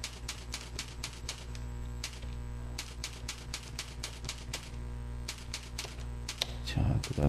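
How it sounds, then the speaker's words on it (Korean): Typing on a computer keyboard while writing C code for a brick-breaking game: quick irregular clicks and key taps close by, over a steady low hum, with a brief louder rustle near the end. "우리가 기본적인 타이핑 정도만 좀 해볼까요?"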